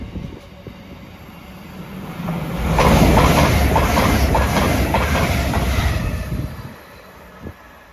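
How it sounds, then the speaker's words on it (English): A GWR IET train passing close by, rumbling in as a loud roar with rhythmic clickety-clack of wheels over rail joints, then cutting off sharply as it clears. "Behind me we have a GWR IET coming past."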